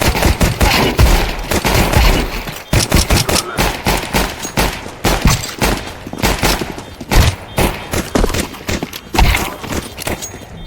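Dense, rapid gunfire rattles from a video game's practice mode, loud bursts and volleys piling up close with brief gaps, continuing steadily throughout.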